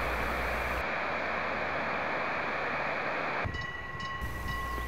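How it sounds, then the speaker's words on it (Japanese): A Hokuriku Railway Ishikawa Line electric train with nose-suspended traction motors runs by with a loud, steady rumble that roars for about three and a half seconds, then eases into a quieter whine with faint tonal hum. "これも鶴木からやってきた電車です。"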